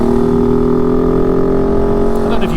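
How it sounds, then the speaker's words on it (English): Kove 450 Rally motorcycle exhaust rasping loudly and steadily while riding over dips, a continuous droning engine note at close range throughout. "I don't know if you can still hear me over the sound of the exhaust"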